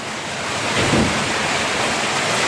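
A steady outdoor roar of wind and rain, constant and fairly loud throughout, with no voices.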